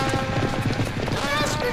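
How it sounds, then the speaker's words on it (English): Horse hooves clip-clop in a quick galloping rhythm in an animated children's cartoon chase, mixed under excited voices. "Run, horses, run!"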